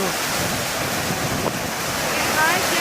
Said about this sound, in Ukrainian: попередня хвиля вдається в скалу і відбивається назад